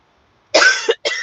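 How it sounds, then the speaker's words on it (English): A person with a dry throat gives two harsh coughs in close succession, loud and close up, against near silence. "I hate making noise and then coughing."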